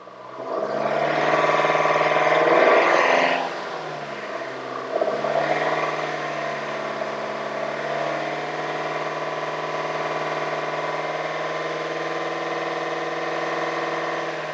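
A car engine is held at a raised speed of about 2,500 RPM during a battery and charging-system test. It swells to a louder rev at first, then settles into a steady, close, even drone with no voices.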